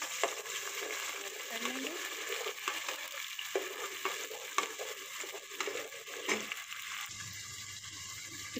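Chopped onions frying in hot oil in a pan for a spicy cluster bean dish, a steady broadband sizzle with stirring and scraping, close and continuous for the whole stretch.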